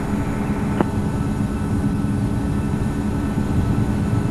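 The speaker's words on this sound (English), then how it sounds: "runway 27, cleared for immediate takeoff" Airliner engines roaring steadily at takeoff thrust in the Infinite Flight simulator, a continuous broadband rumble with one brief click partway through and no talk.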